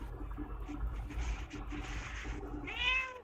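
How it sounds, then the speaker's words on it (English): A cat meows several times in quick, uneven succession, ending in a louder drawn-out cry, heard fairly close over faint background noise. "Yes, I know that was a cat."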